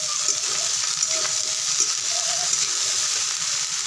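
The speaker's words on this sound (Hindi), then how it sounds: "इस तरीके से हम डाल रहे हैं थोड़ा थोड़ा करके, और इसको हम चलाते भी जाएंगे।" Shredded cabbage and potato fry in a pan and get stirred, a moderate sizzle broken by soft scraping strokes, steady and close, with no talking.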